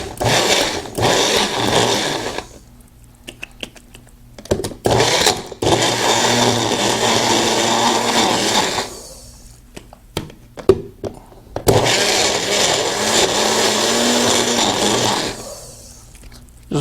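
Magic Bullet blender mixing ingredients in a mug, loud high-pitched motor whine in three long bursts of a few seconds each, separated by short pauses with clicks and thumps as the cup is handled.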